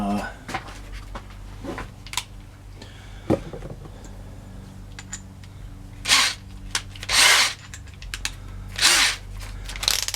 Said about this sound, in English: I'll put my drill motor on the first speed.